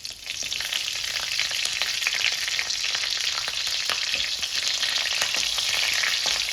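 Green chillies frying in hot oil while making uggani bajji, a steady, bright sizzle that crackles continuously and evenly throughout, with no voices.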